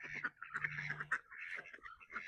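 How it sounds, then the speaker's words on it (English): A male duck, a drake, quacking in a rapid series of raspy, nasal calls close by, with no speech. "That's my other male duck."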